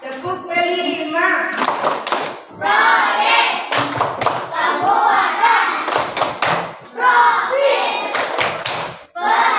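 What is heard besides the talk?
class doing rhythmic hand clapping pattern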